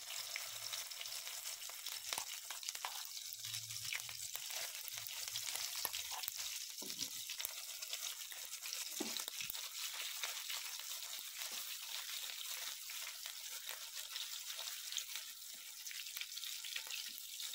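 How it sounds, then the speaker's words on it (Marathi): A spice masala for a fresh cashew usal fries steadily in a pan, giving a soft, continuous sizzle with faint stirring scrapes and no talking. "मसाला चांगला परतून घ्यायचा आहे."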